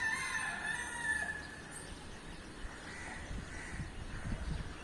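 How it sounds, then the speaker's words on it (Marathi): Birds call repeatedly over a soft outdoor ambience at sunrise in Ambernath, with a rooster-like crow near the start and scattered chirps fading in and out at moderate distance. "अनेक पक्षी पक्ष्यांचे आवाज सुमधुर आवाज"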